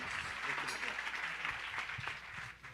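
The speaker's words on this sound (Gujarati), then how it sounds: "આપણે જોરદાર તાળીઓથી સમગ્ર ધર્મકુળના આશીર્વાદને વધાવી લઈએ" An audience claps through a Patotsav gathering in the hall of a Swaminarayan mandir in Boston, a dense and even patter of applause heard from a distance, fairly quiet throughout.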